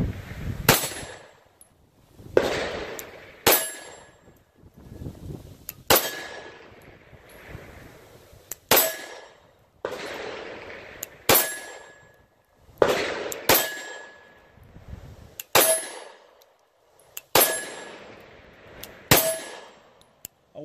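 A CZ P-10 pistol empties a full magazine at steel targets: about ten sharp, evenly spaced shots, each followed by a bright metallic ring from the struck steel, loud and close with short quiet gaps between.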